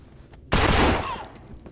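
Gunfire from the zombie survival game No More Room in Hell, a sudden loud burst of shots erupting after near silence and tailing off over about a second, with faint game ambience around it.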